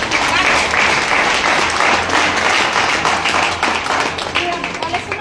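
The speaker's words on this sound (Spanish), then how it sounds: "¿Le quieren aplaudir a Moisés?" A crowd breaks into loud, sustained applause during a psychology talk on addiction, dense clapping that holds strong and slowly tapers toward the end.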